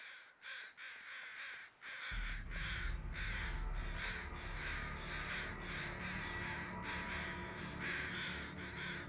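Crows caw repeatedly in the survival video game The Long Dark, harsh calls layered over a steady wind-like ambience that rises abruptly after a quiet start.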